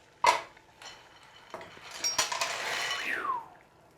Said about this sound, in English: we're just gonna add our 12 ounces of our gluten-free penne to our, boiling cauldron